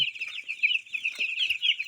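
Chicks in a brooder cheep continuously in a dense high-pitched chorus, close by, with a few soft thumps underneath.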